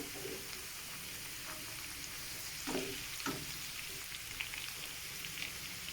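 Carrots frying in a pan for fried rice give a steady, soft sizzle throughout, with a few brief stirring clatters partway through; no one talks.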